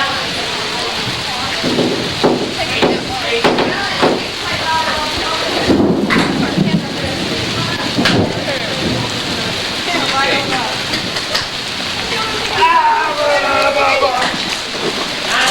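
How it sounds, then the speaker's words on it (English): Steady heavy rain pours down outdoors at a 1985 youth camp with rumbles of thunder, while voices talk and call out over the downpour. "It's raining, you better run."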